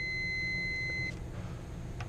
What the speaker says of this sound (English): See that? Got a beep.